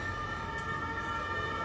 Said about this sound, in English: Noisy sirens.